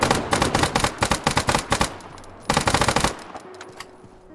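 Rapid automatic gunfire from hip-fired weapons in a video game, two loud close bursts of rattling shots separated by a short pause, followed by a fading tail.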